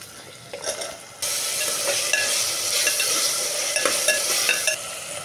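Potato and tomato pieces drop into hot oil with ginger garlic paste for amaranth-leaf rice, and a loud, steady sizzle swells suddenly near the start, then holds with faint stirring scrapes throughout.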